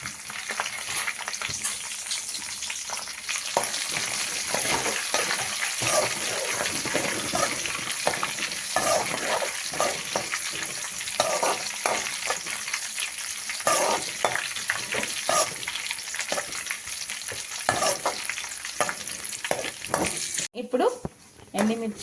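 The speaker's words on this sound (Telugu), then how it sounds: "దీంట్లోనే ఒక 4 ఎండుమిర్చి వేసి బాగా ఫ్రై చేసుకుందామండి." Garlic and dried red chilies fry hard in hot oil, a dense continuous sizzle broken by frequent scraping stirs, close and loud throughout, with a brief pause near the end.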